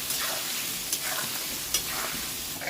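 Potatoes fry in a pan with turmeric and salt, a steady, hissing sizzle and occasional scraping stirs, close by with no talking.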